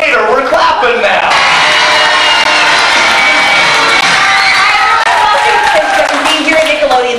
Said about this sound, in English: I want to hear everybody yelling, clapping your hands, making all kinds of noise.